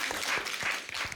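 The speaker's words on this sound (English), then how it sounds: "Give him a round of applause, y'all." A round of applause from a panel audience at a cultural keynote event, many hands clapping in a dense, even burst that fills the room for a moment.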